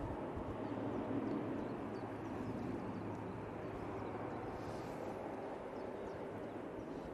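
An airliner takes off from Manchester Airport bound for Dublin on a windy day: a continuous broad, rumbling engine roar heard from a distance, holding steady throughout with no talking.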